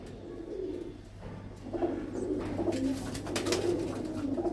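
Pigeons with deep blue feet coo in low, murmuring calls over a steady low hum, with scattered rustling and brief bright noises mixed in toward the end.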